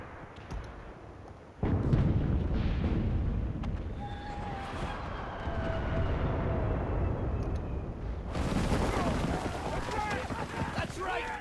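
Booming explosions and crackling blasts go off repeatedly in the war game Enlisted, loud and dense, with game effects and voices talking over them throughout.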